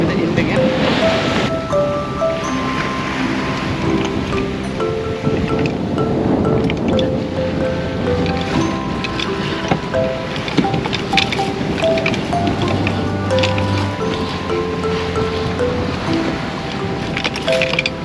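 Big ocean waves and strong wind during downwind sailing on an Amel sailboat, a continuous loud roar of rushing water and buffeting microphone wind noise, with people talking over it.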